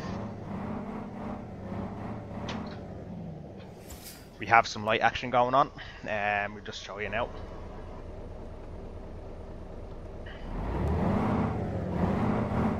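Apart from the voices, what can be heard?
restored O407 bus engine running, from video game OMSI 2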